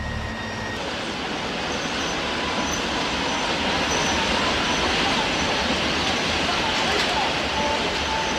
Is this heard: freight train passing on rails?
yes